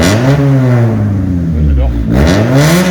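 A Honda Civic fitted with a cheap eBay exhaust revs hard and close, its engine note climbing and falling in loud, droning sweeps with no pause.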